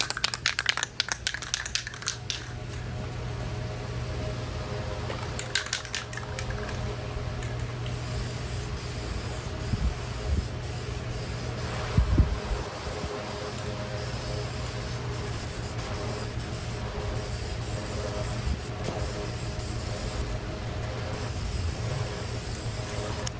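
Spray can coating scrap-wood corner lanterns black in a carport, a steady hiss running throughout with brief clicks and rattles from the nozzle and can, close and moderately loud, no talking.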